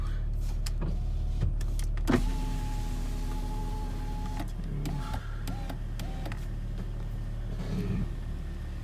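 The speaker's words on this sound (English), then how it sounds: "Well, we open the window." A car's electric window motor whirs steadily for a couple of seconds and stops, followed by shorter whirring bursts, close and fairly quiet over a low engine idle of an all-wheel-drive car.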